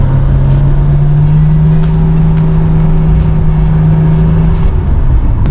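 A Nissan Skyline GTR R32 drives along with a steady, loud engine drone and a constant low hum that holds for several seconds before easing slightly, heard from inside the car.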